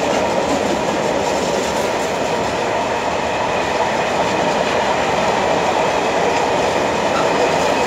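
Train rolling past at Bayırköy, a loud continuous rumble with faint clickety-clack of wheels and a hint of wheel squeal, steady for the whole stretch with no voices.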